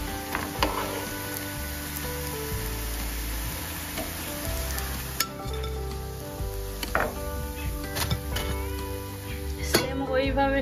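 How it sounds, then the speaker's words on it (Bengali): Egg and lentil fritters frying in oil, a continuous close sizzle with occasional clinks of utensils against the pan. "দেখুন আমার বড়াগুলো লাল করে ভাজা হয়ে গিয়েছে।"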